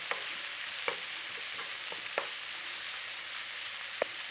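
Cubed cheap off-cut bacon frying in a pan, a steady soft sizzle with occasional sharp pops and crackles spaced across the moment, fairly quiet and close, no voices.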